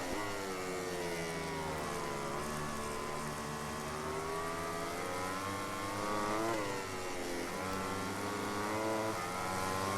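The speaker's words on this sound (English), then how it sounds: "we can just about hear his Ducati." In the MotoGP 18 video game, a Ducati racing motorcycle's engine whines at high revs during a wet race at Assen, rising and dipping with gear shifts under a steady roar of other engines.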